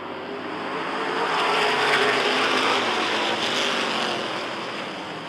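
Race cars accelerate together on a green flag restart at Rockford Speedway, their engines forming a loud, dense, continuous roar that swells and holds steady with no voices.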